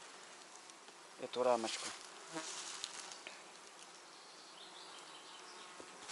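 Honeybees from a spring colony buzz in a steady, moderately close drone while a hive frame is shaken, and someone speaks briefly over the hum.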